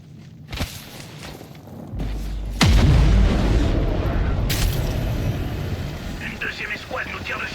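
A gunshot booms in a video game, one loud report followed by a rumbling tail and scattered smaller bangs, with a voice talking over the action.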